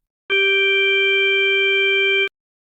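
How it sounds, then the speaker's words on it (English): A synthesized additive tone built from a fundamental plus several steady overtones, organ-like, holds at constant loudness for about two seconds, starting and stopping abruptly with silence on either side. "If you add several overtones, it may sound like a pipe organ."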